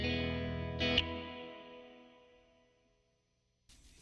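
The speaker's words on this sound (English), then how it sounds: "So let's go through the reverb." Guitar note ringing through the reverb of a DIY Flick reverb/tremolo/delay pedal, a sustained tone with a short attack near one second, decaying smoothly into silence before a brief new sound at the end.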